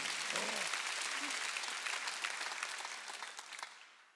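A church congregation at a Korean Wednesday worship service claps together in a loud, dense burst that holds steady, then gradually thins and fades toward the end, with a brief voice faintly audible near the start.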